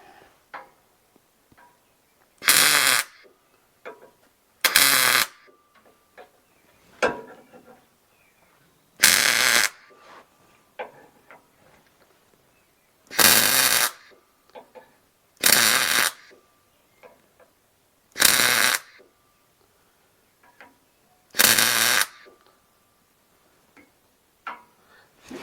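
Tack welds go onto a 3-inch Flowmaster exhaust pipe on a 1966 C10 pickup. Seven short, loud crackling bursts come at irregular intervals, separated by near-silent pauses with faint handling clicks.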